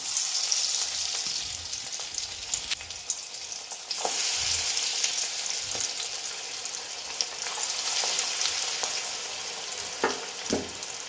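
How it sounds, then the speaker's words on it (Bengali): Continuous sizzling and crackling as prawns fry in hot oil, steady and close, with occasional sharper pops and stirring scrapes throughout. "তেল গরম হয়ে গেছে এবার চিংড়ি মাছগুলোকে আমি ভেজে নেবো"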